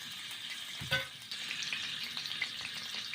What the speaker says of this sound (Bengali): তেল গরম করছি, তেজপাতা দিলাম, কালো জিরে দিচ্ছি।